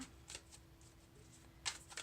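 Tarot cards riffle and snap in quick, soft bursts, faint and close, with a few short shuffles spaced across a quiet room.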